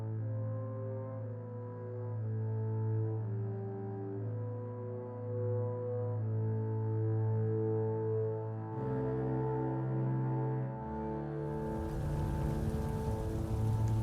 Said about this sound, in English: The rain pattered on the rooftop of the derelict house.